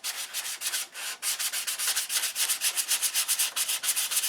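Sandpaper rubbed over primer on a control line P-51 B model airplane, a fast steady run of close, loud rasping strokes with a short pause near the start, no voices.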